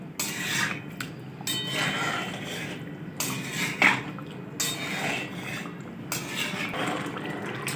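Yogurt being whisked in a bowl for a beef karahi: a brisk, continuous scraping and clinking of a utensil against the dish in irregular strokes, close up, with short pauses and no talk.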